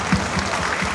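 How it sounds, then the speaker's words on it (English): Applause from an audience at a university speaker series event, a brief burst of clapping filling the moment, fairly loud and dense with no talk over it. "Please, a round of applause for yourselves."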